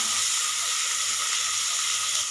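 Garlic, kanthari chillies and tomato sautéing in a pan for a sardine curry, giving a steady, close, loud sizzle and hiss that runs unbroken with no talk.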